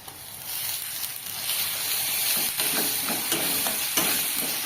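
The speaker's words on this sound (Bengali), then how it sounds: "পেঁয়াজটা ভাজা হোক।" Onion and garlic frying in oil in a pan for an eggplant and fish curry, a steady close crackling sizzle that runs without a break and swells slightly toward the end, with no voices.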